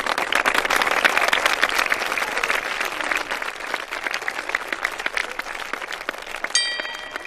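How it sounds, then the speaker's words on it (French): A room full of people applauds, a sustained, fairly loud patter of clapping that holds for several seconds and then thins out near the end. "Et on applaudit."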